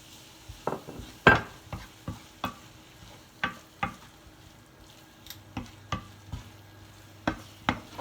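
A spoon stirs a meat, potato, cream and grated cheese filling in a pan, producing a series of distinct scraping knocks at an irregular rhythm, close and clear over a faint low sizzle.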